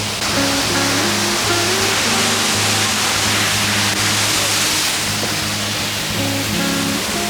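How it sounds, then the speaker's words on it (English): A Pacific Northwest waterfall roars close by, loud and continuous broadband rushing water with no pauses, drowning everything else out. "Probably can't even hear me over the waterfall."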